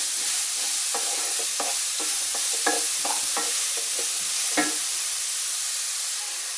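Crushed broad beans stir-fried in a pan, with irregular scraping and tossing strokes over a soft, constant sizzle, fairly quiet and close.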